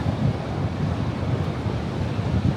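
Ocean surf rolls onto the beach where Golden Gate Park meets the sea, a steady broad roar with heavy wind buffeting the microphone and no voices.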